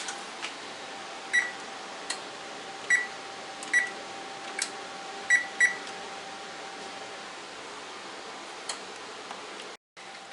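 An oven timer in a home kitchen sounds a few sharp, clear beeps spread irregularly over several seconds, set against a steady low hum of room noise.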